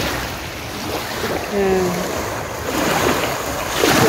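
Ocean waves wash steadily along Bangay Bangay Beach in Salay, Misamis Oriental, with a continuous rushing surf and some wind, loud and close, and a voice speaks briefly.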